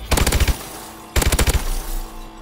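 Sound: KF5 gun firing in Call of Duty Advanced Warfare video game

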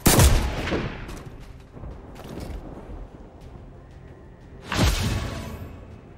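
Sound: gunfire at an enemy in XCOM 2 video game

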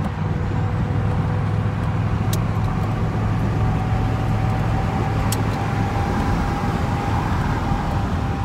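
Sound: 1981 Pontiac Turbo Trans Am engine while driving

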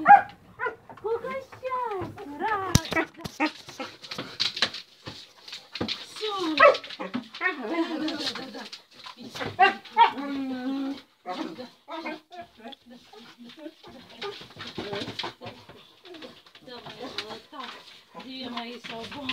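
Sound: Labrador and Bernese mountain dog barking and whimpering

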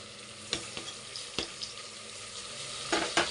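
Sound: chicken and tomato frying in oil for chicken pulao

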